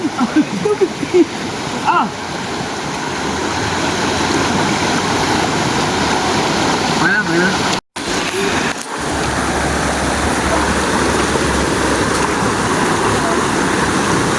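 River water rushing and splashing over rocks during a swim outing, a loud, constant roar close by, with people talking and a short shout over it.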